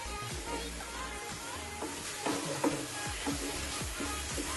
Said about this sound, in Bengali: নারকেলের এই পুরটা কিন্তু একদম থামানো যাবে না, তাহলে কিন্তু নিচে ধরে যেতে পারে। এইভাবে নাড়াচাড়া করতে করতে একটা পাক এসে যাবে